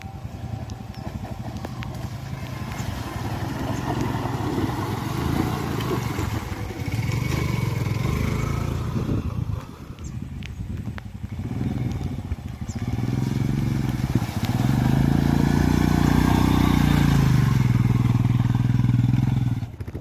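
A Yamaha Fazer motorcycle rides off-road into a forest, its engine droning steadily and loudly throughout, rising to a heavier rumble in the second half, with no talk over it.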